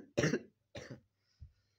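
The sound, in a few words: coughing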